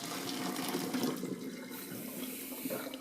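Hot water from a pot of cooked boba pours into a colander in a kitchen sink, a continuous rushing, gurgling splash that stays loud and steady throughout, with no talk.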